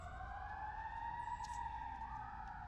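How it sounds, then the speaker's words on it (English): Ambulance siren in a city, a steady wailing tone sounding from a moderate distance, fairly faint and continuous throughout without any talk. "I hear the ambulance is pretty busy again today."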